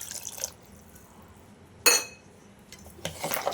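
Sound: mixing pumpkin sambar ingredients in a pot

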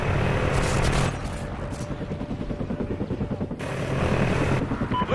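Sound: helicopter flying overhead in video game Call of Duty: Ghosts

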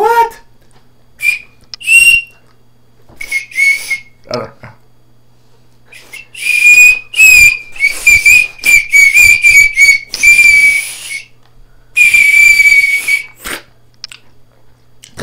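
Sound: candy whistle being blown

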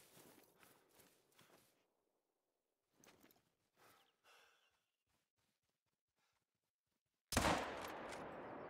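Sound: Coachmate Lever .45-70 rifle shots, video game Hunter Call of the Wild

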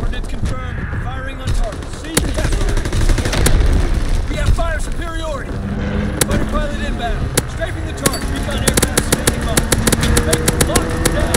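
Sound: gunfire in a military video game

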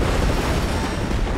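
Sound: explosion in video game LEGO Marvel Super Heroes

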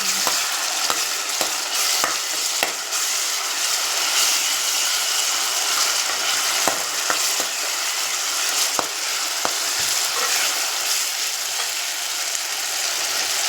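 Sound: frying masala with ginger garlic paste for fish curry

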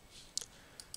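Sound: computer mouse click

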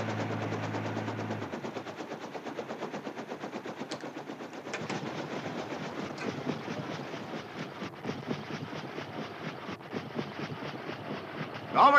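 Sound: passing train

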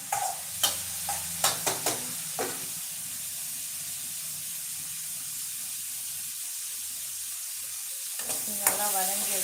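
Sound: masala frying and being stirred for green gram curry

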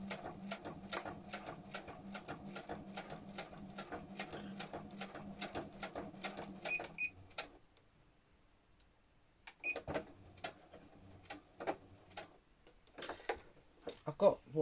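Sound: sewing machine sewing a stab stitch on a needle book

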